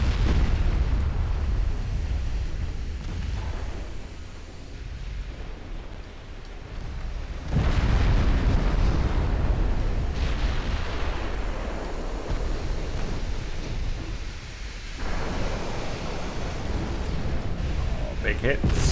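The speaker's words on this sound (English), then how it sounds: "Oh, Moskva exploding." Deep, rumbling blasts roll through as the warship Moskva explodes in a Greek naval war strategy game, with a sustained roar, a second heavy surge midway and another swell near the end.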